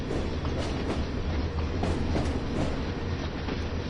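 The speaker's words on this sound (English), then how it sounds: "an empty coal train, which needed to be loaded in Werdohl" An empty coal train rolls along the Ruhr-Sieg Nord line near Plettenberg and Werdohl in Train Sim World 2, giving a steady, close rumble with faint rhythmic wheel clicks and no voices.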